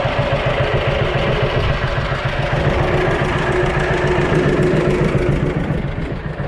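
A John Deere B tractor engine idles low and steady, a close, loud, evenly pulsing chug that runs throughout with no voices over it.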